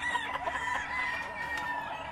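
Game chickens cluck and call in a pen, with a steady overlapping chatter of several birds at moderate distance and a faint background hum.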